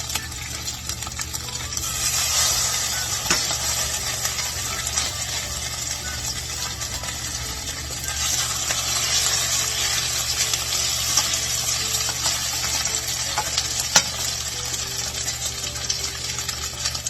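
Salmon cakes frying in an overly hot, smoking pan, a steady broadband sizzle that swells and holds throughout, with a low hum beneath and a couple of sharp clicks.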